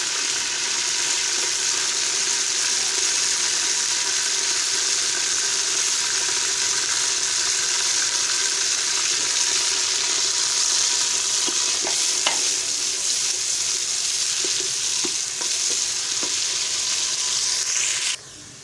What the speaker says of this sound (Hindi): हम घी डाल लेते हैं और साथ ही इसमें हम प्याज थोड़े से